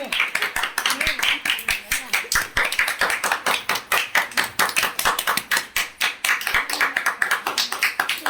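Rhythmic hand clapping at a wedding anniversary celebration, many sharp claps in a fast steady beat, close and loud, with voices faintly underneath.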